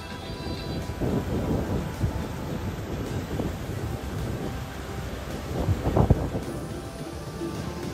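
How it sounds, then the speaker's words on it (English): Light rain drizzles at a beach resort, a steady wash of rain and wind noise with low rumbling swells, heard without any talk. "A little drizzle and nobody's out here."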